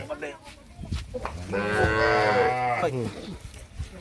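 A cow mooing nearby, one long loud drawn-out moo in the middle of the clip, with faint background sounds around it.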